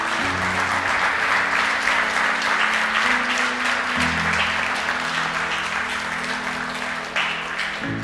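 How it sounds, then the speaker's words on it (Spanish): A church congregation applauds steadily for about eight seconds, a dense, sustained clapping that fills the room at an even level, with music droning softly underneath. "Demos un aplauso al Señor"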